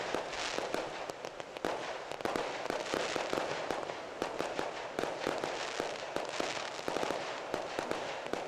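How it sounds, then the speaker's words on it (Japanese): Fireworks at a lantern floating ceremony, heard from across the river, crackle and pop continuously in dense, rapid bursts, a steady barrage of sharp bangs heard from some distance. "延々と花火がこう上がって"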